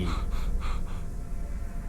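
Someone pants hard to catch their breath after running away, with several quick, close, breathy gasps in the first second that ease into a quieter rushing breath.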